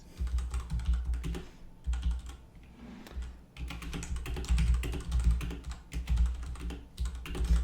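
Rapid clattering of computer keyboard keys, close and continuous, with a brief pause partway through before the typing resumes.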